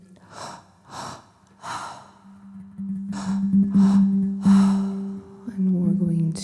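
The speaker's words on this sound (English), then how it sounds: "So go ahead and start breathing." Active breathing exercise in a guided belly-and-chest breathwork session: rhythmic, forceful inhales and exhales repeat in close succession over a steady low hum, growing fuller as it goes on.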